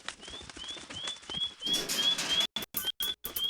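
A bird flaps its wings as it arrives to deliver something, a fluttering rush paired with a repeated rising whistle-like tone, fairly close, ending in choppy bursts of flapping.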